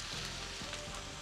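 Vegetables and hash browns sizzle in butter on a Blackstone griddle, a steady close crackle and hiss running unbroken with no talking.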